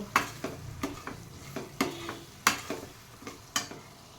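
Curry leaves dropped into hot oil for a puliyogare tempering, giving a soft sizzle broken by sharp, periodic stirring clinks and scrapes at a moderate distance, with no talking.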